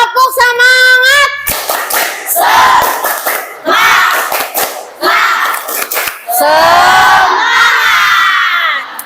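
Schoolchildren in a classroom do a spirit clap routine, chanting and shouting in unison in loud rhythmic bursts punctuated by sharp group claps, with short pauses between phrases.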